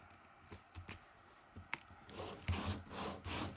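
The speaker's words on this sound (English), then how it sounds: "I'm just going to fold and burnish that." Scored cardstock for a card base is folded and burnished by hand, giving soft, close rubbing and scraping strokes with a few light taps, quiet and without talk.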